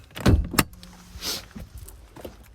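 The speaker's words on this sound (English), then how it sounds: "let's pop the bonnet, which is just here." A couple of quick mechanical clunks and a latch release as a Nissan Navara 2.3 DCI pickup's bonnet is popped open, followed by a soft whoosh and faint rattling, close by.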